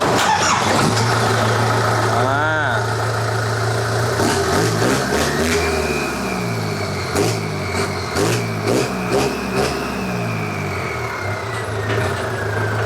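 An Isuzu Dragon pickup truck engine cranks and starts, then revs up and down several times in sharp bursts, loud and close.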